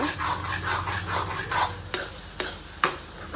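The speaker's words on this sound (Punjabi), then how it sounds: "ਆਪਾਂ ਬੈਂਗਣ ਪਾਤੇ ਹੋਏ ਨੇ ਭੁੰਨੇ ਹੋਏ ਤੇ ਬਸ ਸਾਰਿਆਂ ਨੂੰ ਮਸਾਲੇ ਦੇ ਵਿੱਚ ਮਿਕਸ ਅਪ ਕਰ ਲਵਾਂਗੇ" A spoon stirs roasted eggplant into sizzling masala for bharta, scraping and clacking against the pan in a busy rhythm, with a few sharp knocks toward the end and no talk.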